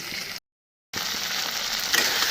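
Ground spice paste frying with taro in a home kitchen curry, a steady broadband sizzle running close and loud, broken by a brief silent gap before resuming with faint stirring scrapes.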